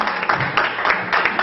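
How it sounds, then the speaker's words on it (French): A debate audience applauds, steady crowd clapping with overlapping hand claps at close range, sustained for a short stretch. "beaucoup d'applaudissements"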